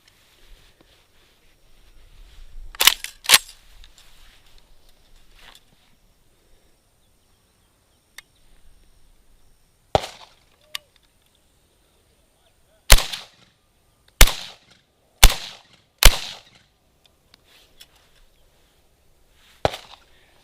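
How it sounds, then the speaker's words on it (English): A VZ-58 rifle fires 7.62 rounds outdoors as sharp, loud single gunshots spaced irregularly, a pair early on and a quicker run of several later, with quiet gaps and faint handling noise between shots. "So let's get into a little bit of shooting, and then we'll go from there."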